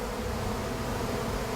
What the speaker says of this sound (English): It's a freaking swarm of honeybees that I recorded, and I want to share with you.